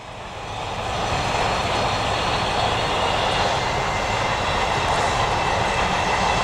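Steam locomotive 8F 48151 hauling the Salopian Express passes close by, a loud, steady broadband roar and rumble that swells within the first second and holds strong to the end, with no talking.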